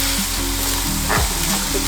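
Cooking oil sizzling and crackling in a pan before beef goes in for a stew, a steady close spitting hiss with a brief stirring scrape partway through.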